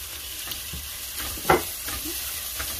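Shelled shrimp frying in oil for a Bengali bottle gourd and shrimp curry give a steady close hiss of sizzling, with a sharper clatter of stirring around midway.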